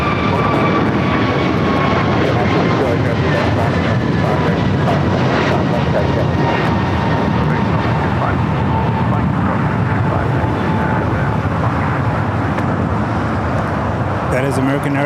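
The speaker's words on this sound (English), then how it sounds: "That is American Airlines 636 going to Charlotte on a 3-year-old Airbus A321 Neo." An American Airlines Airbus A321neo jet at LAX roars loudly and continuously, a dense engine rumble with faint gliding whine tones, close and unbroken across the whole stretch.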